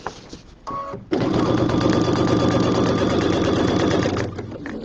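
A sewing machine top stitching with bold red thread on a project bag runs loud and continuous for nearly four seconds after a brief hesitant start, with a steady rapid mechanical rhythm.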